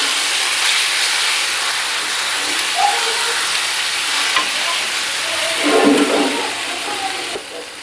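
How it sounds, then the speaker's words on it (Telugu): Mango chutney being stirred with a spoon in a hot pan to coat it in tempering gives a continuous loud sizzle and hiss, with light scraping and stirring clinks, up close and without talk. "ఇందులో వేసుకొని ఇలా ఆ పోపు అంతా ఈ పచ్చడికి పట్టే విధంగా కలుపుకోవాలి"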